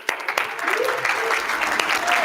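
Audience applause at a motivational seminar as someone is invited up on stage: a few sharp claps swell into steady clapping from a crowd, with voices heard underneath.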